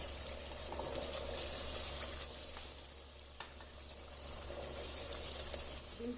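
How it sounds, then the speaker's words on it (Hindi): Boiled chickpeas going into fried masala in a pan: a faint, steady sizzle with soft stirring scrapes and a quiet patter as the chickpeas settle, heard close and low with no talking. "अब इसमें बॉईल किए हुए चने डाल देने हैं।"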